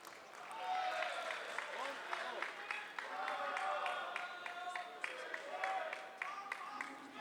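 Crowd cheering and applauding for table tennis player Xu Xin at a world championships men's singles match, a steady moderate roar with scattered claps and shouts, heard from some distance.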